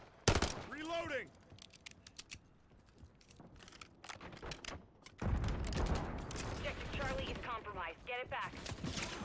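Call of Duty gunfire, bursts of automatic shots and rattling mechanisms mixed with in-game radio chatter and shouted voices, rising again into sustained firing in the second half.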